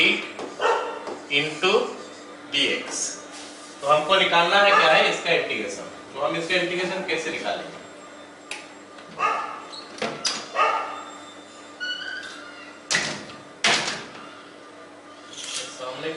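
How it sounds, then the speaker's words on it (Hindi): A neighbour's dog barks repeatedly in short bursts from a nearby house, mostly underneath a man's continuous speech. "सामने किसी का घर में कुत्ता है, खाली भौंक रहा है ना"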